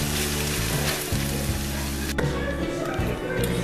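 Meat simmers down in a pan as its liquid evaporates, making a strong, steady sizzling hiss while a voice talks over it.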